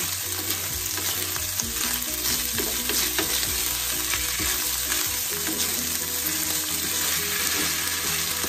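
Fried rice sizzles and crackles in a wok, a dense continuous frying hiss broken by repeated scraping stirs throughout, close and loud with no voices.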